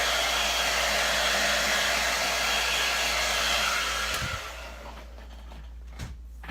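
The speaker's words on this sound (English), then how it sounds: "I do have a little hair dryer here." A small hair dryer blows steadily on chalk paste in a crafting session, a loud, even whooshing roar that cuts off after about four seconds, leaving faint handling noises.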